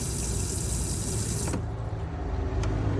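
Water runs steadily from a replacement tap in a Hyundai i800 Wellhouse campervan, a close, loud continuous gush that shifts in tone midway as the flow changes.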